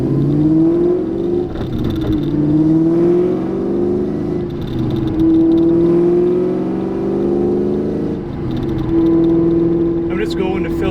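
A car nicknamed Terminator on its last drive of the year, its engine a loud steady hum close by with rising and falling revs and whirring, continuous throughout with a brief clatter near the end.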